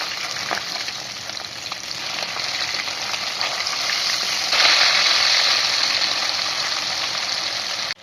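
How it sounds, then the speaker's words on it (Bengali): Katla fish pieces fry steadily in hot oil in a pan, giving a continuous close sizzle that grows louder and brighter midway as a piece is flipped, with no voices. "মাছের এক পাশ ভাজা হয়ে গেলে আরেক পাশ উল্টে ভালো করে ভেজে নিতে হবে"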